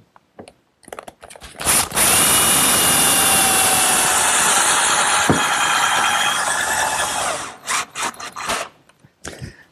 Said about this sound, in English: I'll attach it with a few screws